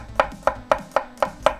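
A knife chops garlic on a cutting board in regular, evenly spaced strokes, six crisp nearby knocks with no talking.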